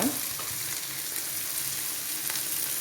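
Steady, crackling sizzle of sardines frying in hot oil in a pan, close up and continuous, with no talking.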